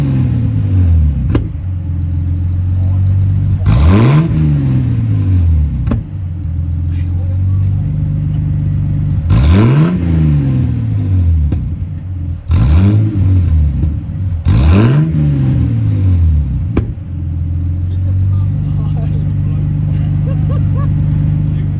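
Ford AU Falcon engine revs hard through a custom side-exit exhaust in repeated loud bursts, each rising and falling, with a steady idle burble between them, close to the listener.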